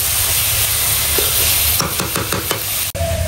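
Tender amaranth greens cooking in a pan, a steady close sizzle and hiss with a run of quick scraping stirs and a sharp knock near the end, no talking.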